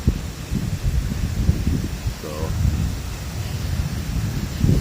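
Early-morning windstorm gusts roar over the microphone in low, irregular rumbling bursts, loud and close, with rustling and a brief faint voice-like fragment in the middle.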